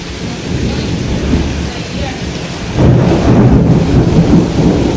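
A heavy thunderstorm with rain pours down outside during a power cut, with loud, deep thunder rumbling and a steady hiss of rain that swells partway through.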